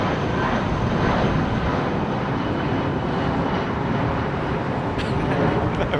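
An airliner arrives on runway 09 left at London Heathrow, its engine noise a loud, continuous broadband roar that holds steady throughout.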